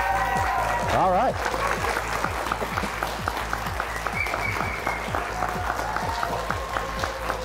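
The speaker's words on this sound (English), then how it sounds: "Raucous applause." A studio audience at a high school quiz show applauds throughout, with brisk, crowded clapping under a voice and a steady low hum, a few whoops rising briefly.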